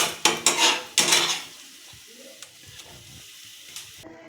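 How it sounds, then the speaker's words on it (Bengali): A metal spoon stirs a semolina and water mixture in a pot, giving several sharp clinks and scrapes against the metal at first, then quieter scattered stirring taps. "জল দিয়ে একটু ভালো মতো নাড়াচাড়া করে নেব।"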